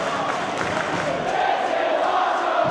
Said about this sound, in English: You can hear the crowd going absolutely insane watching this match right now.